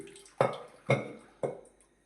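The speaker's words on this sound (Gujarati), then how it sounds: "આ રીતે પાણી કાઢી નાખવાનું દાળમાંથી નિતારી દેવાનું" Water is drained off cooked lentils, heard as three separate soft splashes at roughly half-second intervals, fairly quiet and close.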